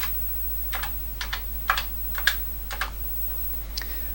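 Keys clack on a Hazeltine 2000 terminal keyboard in short clustered bursts of crisp taps, close and clear over a low steady hum, with pauses between groups and no voices.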